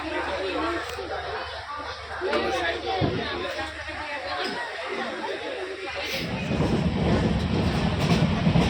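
Inside a passenger train carriage with chair seating, a continuous rumbling run with rattling underlies people chatting nearby, the rolling noise growing louder toward the end.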